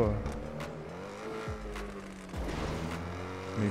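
Race car in GTA 5 accelerating through gears on a game track, a steady engine drone with two sharp downshift-like pitch drops and rising revs, mixed with game effects and faint talk throughout.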